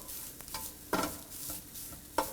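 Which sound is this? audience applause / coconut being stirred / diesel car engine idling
coconut being stirred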